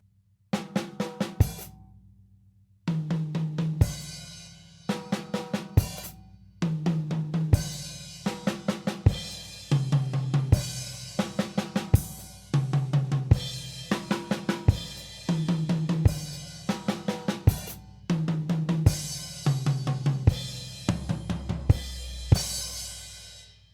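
Drum kit pattern moving between the toms and snare, a steady groove of sharp pitched tom hits and snare cracks with ringing cymbal wash, played close and loud without talking.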